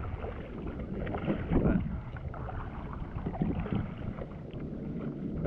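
A kayak being paddled against the wind off the Florida coast, with steady wind buffeting the microphone, soft water splashes from the strokes and a brief spoken word.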